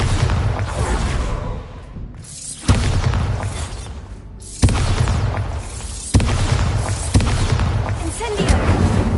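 Bombarda blasting spells exploding in a Harry Potter video game: four heavy booming blasts a couple of seconds apart, each a loud sharp onset followed by a long rumbling decay.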